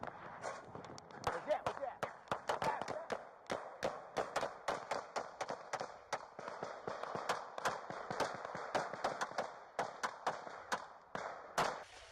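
Rapid gunfire from a police shootout rings out as dozens of sharp shots, irregular and in bursts, over a steady noisy background across the whole stretch.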